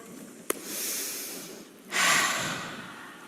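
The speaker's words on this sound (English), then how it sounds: "Let's all take a moment and take a deep breath." A group of people at a seminar take a deep breath together, producing a long, close inhale followed by a louder breathy exhale that trails off after a brief click at the start.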